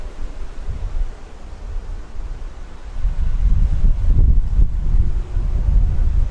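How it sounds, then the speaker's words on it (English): Steady low rumble of wind buffeting a microphone, growing louder and gustier halfway through, with no voices. "It's a little windy."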